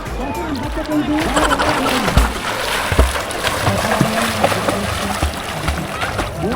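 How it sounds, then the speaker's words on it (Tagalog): Close splashing and sloshing of sea water as a person swims at Limasawa Island, steady choppy splashes throughout with no talk over them. "Alam niyo ba, marunong talaga ako lumangoy."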